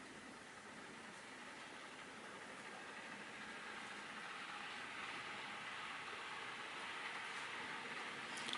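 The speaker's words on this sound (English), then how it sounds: "This train can zoom around the track." A Bachmann Class 350 London Midland OO gauge model train runs steadily along its track, giving a faint, even whirring motor hum with a soft rolling rattle that builds slightly over time.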